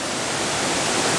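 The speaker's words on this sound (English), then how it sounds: "this is definitely in my top 3 favorite waterfalls so far that we have seen" A North Carolina waterfall roaring as a steady, full rushing wash of falling water, close and continuous.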